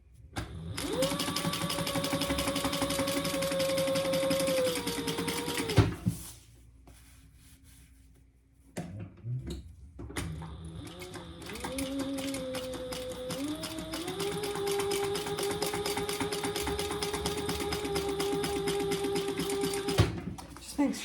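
Sewing machine stitching card slots on a fabric family travel organizer, a steady close whirring hum that runs for about six seconds, pauses briefly, then resumes at a slightly higher pitch and continues to the end.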